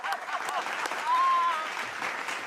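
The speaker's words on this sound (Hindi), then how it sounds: "ताली बजा दो।" Audience applause at a public gathering in Gorakhpur, steady and continuous for a couple of seconds with a faint voice tone passing over it.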